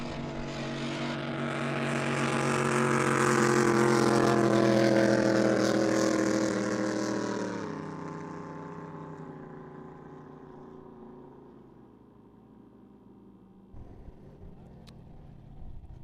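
A drag racing boat called the Golden Child at a Southern Drag Boat Association race, its engine roaring louder and swelling to a peak, then fading into a distant, lower drone as it runs away.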